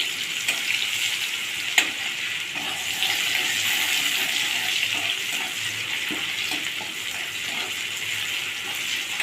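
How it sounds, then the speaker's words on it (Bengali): Chopped onions frying with cloves in a pan while preparing a spicy katla fish dish, a continuous hiss and sizzle with occasional stirring and one sharp clink, no voices. "আর কিছুটা পেঁয়াজ কুচি। এগুলো আমি ভালো করে ভেজে নেব।"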